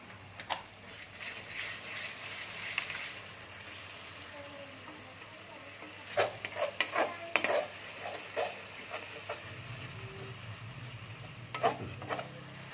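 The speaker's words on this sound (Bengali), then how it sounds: "এই দেখুন আমি মশলাটা কষছি। এর মধ্যে আমি টমেটোটা যে পিষে রেখেছিলাম টমেটোটা দিয়ে দিচ্ছি।" Spice masala frying in a pan with ground tomato being added, heard as a faint low sizzle with scattered scraping stir strokes and clinks, sparse at first and busier in the second half.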